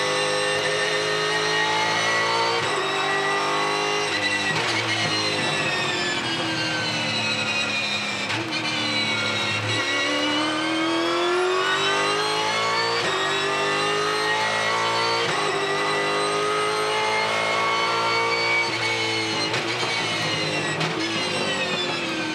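Holden Supercar engine heard from a camera mounted in the front grille during practice at the 2019 Townsville 400: loud, continuous high revving with repeated rises and drops through gear changes, no voices.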